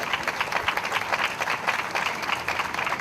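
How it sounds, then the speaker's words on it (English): Audience applause at a peace celebration event in Dayton, Ohio: a steady, dense burst of clapping from a sizable crowd, sustained and even throughout. "let's give Mujan a wonderful round of applause."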